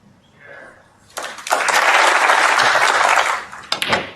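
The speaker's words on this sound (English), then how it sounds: "You can hear the cheer from this crowd." Snooker crowd breaking into loud cheering and sustained applause after Ronnie O'Sullivan's break, rising sharply after a quiet start and holding dense and close for about two seconds before tapering off with scattered claps.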